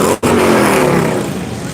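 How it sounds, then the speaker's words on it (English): A Harley-Davidson motorcycle revs loudly on Main Street at night during Daytona Bike Week 2023, a sustained, close engine roar that holds steady after a brief dip near the start. "Nothing like revving your bike up on Main Street."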